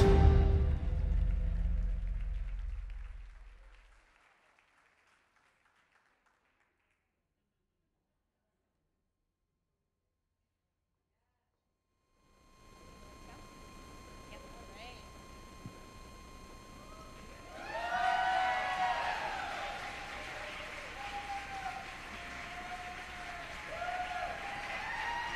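Applause at a kickoff event for a mass volunteer effort fades out quickly, followed by a long stretch of silence, then room noise returns and a crowd grows livelier with scattered cheers and whoops.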